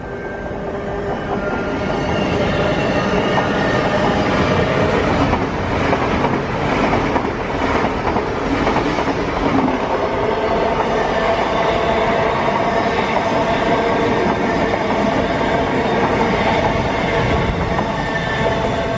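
A freight train rumbles through Ealing Broadway station, a loud continuous roar of wagons rolling past close by with steady rail noise throughout.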